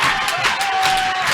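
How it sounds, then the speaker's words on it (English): A basketball crowd at a high school sub-state tournament game roars and cheers, a loud, sustained, dense noise with clapping mixed in and no break. "Hey, man, this crowd's going nuts."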